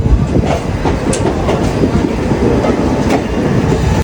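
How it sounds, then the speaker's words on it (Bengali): Steady rumbling of the Netaji Express train arriving at a station, with faint rhythmic clatter of wheels on rails, loud and continuous throughout, no voices. "আমাদের ট্রেন এসে পৌঁছেছে দশ মিনিট আগে"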